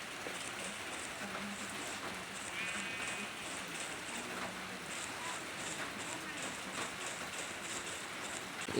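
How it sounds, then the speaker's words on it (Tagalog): Steady rain in a modded Minecraft island survival world, a constant soft hiss of falling drops filling the scene at low level with no break. "It's raining in Manila."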